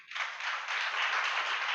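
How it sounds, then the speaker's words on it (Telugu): A church congregation claps together during a sermon, a bright, close burst of rapid clapping that swells quickly and holds steady for under two seconds. "చప్పట్లు కొట్టి గట్టిగా చెప్పండి"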